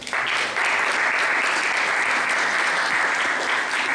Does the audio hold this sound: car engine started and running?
no